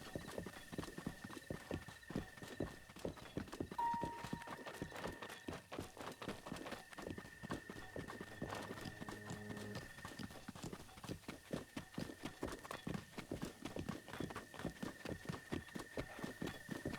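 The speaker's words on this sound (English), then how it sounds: "Oh, it's a horse. I was like, what the hell is that sound?" A horse clip-clopping in The Legend of Zelda video game, a rapid, even run of hoofbeats that continues throughout, with a faint steady electronic tone in the background.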